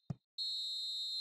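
A referee's whistle blown at full time in a PES 2020 football match, one short blip followed by a long, steady, piercing tone, clear and alone.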